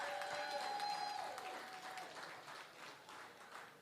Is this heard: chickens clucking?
no